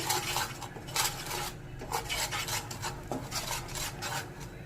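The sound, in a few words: stirring spices with salt and chili powder in pan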